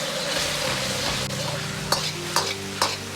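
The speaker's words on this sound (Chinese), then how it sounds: "快速翻炒均匀" Diced pork is stir-fried in thick bean sauce in a wok, giving a continuous close sizzle with stirring scrapes and three sharp clacks of the spatula against the metal toward the end.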